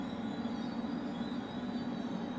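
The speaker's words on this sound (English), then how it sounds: "you can probably hear the trains" Trains roll along a nearby track outside an open window, giving a steady, low rumbling drone with a faint metallic hum, continuous and fairly quiet, with no voices over it.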